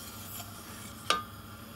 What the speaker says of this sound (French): On remue régulièrement. Plus ça brunit, plus on remue.